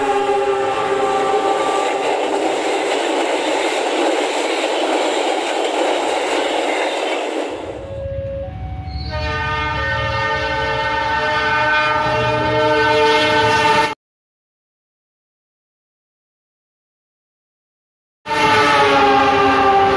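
The Argo Parahyangan train passes the Cimindi level crossing, a loud sustained horn blast over the rumble of the locomotive and rolling cars, followed by more horn after a brief gap.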